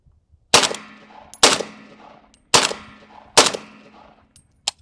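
Four loud, sharp rifle shots ring out from a PSA Krink chambered in 300 Blackout, spaced roughly a second apart. Each crack is followed by a brief echoing decay, with a faint click near the end.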